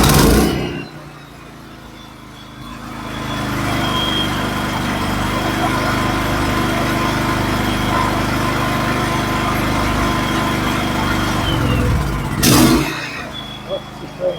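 A Champion 9000 portable generator engine starts with the choke on and settles into a loud, steady running drone, with brief clunks and knocks near the end.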